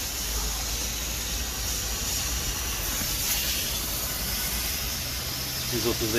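A Wipcool C30S portable steam cleaner releases a continuous, fairly loud hiss of steam for several seconds, broadband and steady with slight fluctuations, with a faint low mechanical hum underneath.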